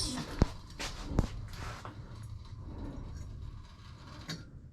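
A homemade welded engine jack for a 7.5-inch miniature train is lowered, giving two sharp metallic clunks early on. Softer mechanical rattling and ratcheting follow at close range before the sound trails off into quiet shop noise.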